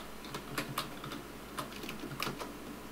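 Fingers tap quietly on a computer keyboard in short, irregular bursts of soft clicks, close and faint over a low room hum, with no one talking.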